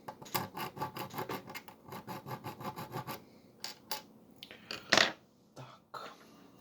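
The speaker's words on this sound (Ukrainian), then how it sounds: "Робимо пропилчик спочатку на одній монеті" A file cuts a test notch into a gold coin, with quick rhythmic rasping strokes for about three seconds, followed by a few scattered scrapes and one sharper scratch.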